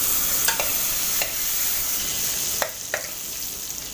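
Butter melts in a pan with a steady, close sizzle, a few sharp clinks of a utensil against the pan breaking through.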